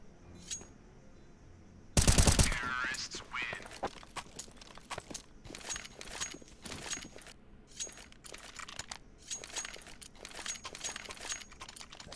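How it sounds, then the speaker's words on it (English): AK-47 gunfire in a Counter-Strike esports match: a loud close burst followed by scattered, fainter shots and rapid in-game clicks and impacts. "We're going to see Dumas good enough for 2, swapping towards that AK-47"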